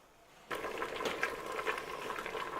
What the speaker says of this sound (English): And now we have our third rolling boil, so we're going to let that boil for another 10 minutes.